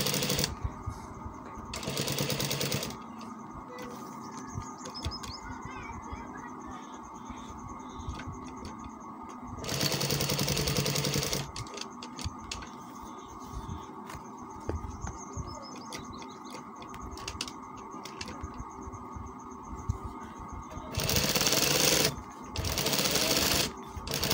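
Sewing machine stitching along a shirt collar, rapid mechanical ticking bursts that start and stop in several short runs, close and moderately quiet, with no talk.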